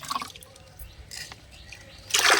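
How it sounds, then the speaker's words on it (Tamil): Water poured into a container of strained liquid fertilizer solution, mixed for chili and summer climbing plants, giving a close, soft splashing trickle that swells into a louder pour near the end, with no speech. "இதில் அதே அளவுக்கு தண்ணி சேர்த்துக்கலாம்."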